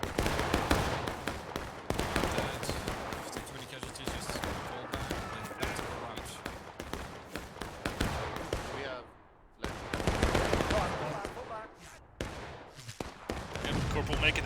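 Dense musket gunfire crackles through a Civil War battle video game, rapid overlapping volleys near and far, dropping to a brief lull before resuming, with voices talking over the shooting.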